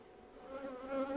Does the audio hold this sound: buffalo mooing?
no